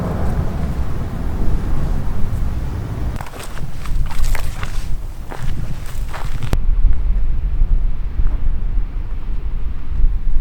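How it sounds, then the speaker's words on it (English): Wind gusting hard across an open hillside at a wild camping spot, a steady broadband rush with rumbling buffeting on the microphone and occasional crunching footsteps, continuous and close throughout. "but it's pretty windy"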